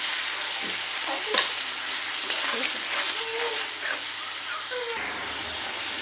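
Spice masala and tomato sauté in a pan with a continuous close sizzle and occasional scraping stirs, fairly even in loudness, with a faint voice briefly in the background.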